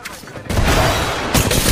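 A grenade blast in the Apex Legends battle royale shooter, a loud broadband boom that swells suddenly at mid-clip and holds as a rumbling roar, with a second surge near the end amid game noise.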